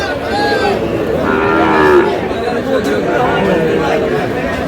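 Shahiwal bull calves low and moo amid a busy crowd at a cattle market in Dinajpur, with people talking and chattering throughout in a noisy open market.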